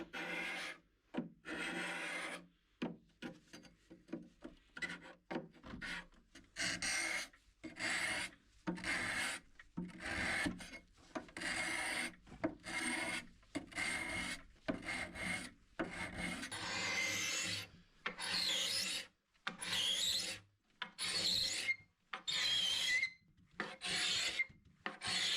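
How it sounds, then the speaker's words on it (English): A hand scraper strips varnish from a wooden 1950s mid-century modern three-drawer dresser in steady, repeated rasping strokes with short pauses between them. The scraping is close and fairly loud, with no talk. "trying to scrape off the varnish"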